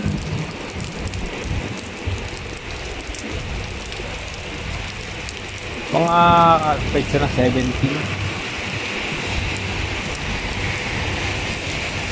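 Heavy rain and wind in Abu Dhabi, UAE: a steady, dense hiss of downpour that runs the whole time, with a person speaking briefly partway through.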